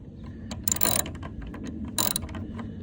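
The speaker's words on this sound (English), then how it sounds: "This hyper tough ratchet, this thing sucks, bro." Hyper Tough ratchet wrench being worked while removing an old temporary tag from a third-generation Ram truck: close, dry clicking of the pawl with two louder rasping ratchet sweeps.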